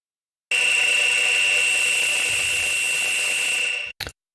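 A harsh, buzzing Synapse Audio Dune 2 synthesizer tone through its distortion effect, heavily distorted and gritty, holds steady for a few seconds before cutting off, followed by a short stuttering blip.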